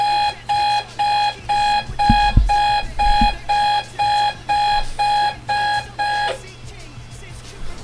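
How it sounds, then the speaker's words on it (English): An alarm clock rings in a steady repeating pattern of about eleven bright electronic bursts, close and loud, with a few low thumps underneath partway through and the ringing stopping near the end. "that would explain why my alarm didn't go off at 5 AM this morning"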